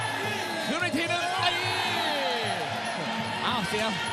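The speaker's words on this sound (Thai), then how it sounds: "เสียงเชียร์เริ่มมา" A crowd cheers at a live Muay Thai bout in Thailand, a dense, steady roar of many voices with rising whoops and shouts that fills the whole stretch, while a commentator talks over it.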